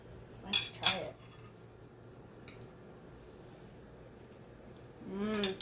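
Utensils clink gently against a plate while cutting a soft jello cake made with condensed milk and vanilla: two short metallic scrapes close together near the start, then quiet, with a faint scrape later.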